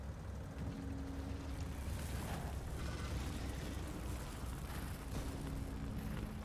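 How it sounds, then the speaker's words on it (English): Factorio gunfire tearing into biter hives on a death world: a steady, rumbling barrage of shots and explosions, continuous and moderately loud, with no voices over it. "Shoot a couple more hives over here"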